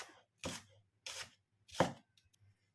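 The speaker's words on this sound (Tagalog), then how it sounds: "hiwain natin ang ating shallot" A knife chops a shallot on a board in three crisp, evenly spaced strokes, close and clear against near silence.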